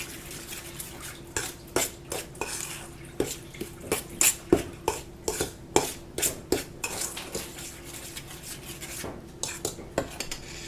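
A utensil stirs homemade chocolate cake batter in a bowl, producing close, repeated clinks and scrapes against the sides in an irregular rhythm, with no talking over it.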